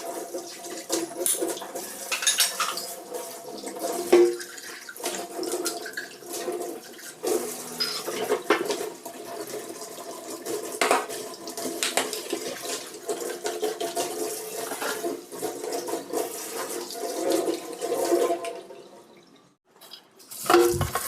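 Tap water runs steadily into a sink while raw chicken is washed under it for soto ayam, a close, continuous splashing with small knocks and handling sounds, briefly easing near the end. No voices.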